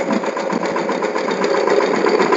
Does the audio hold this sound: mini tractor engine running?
yes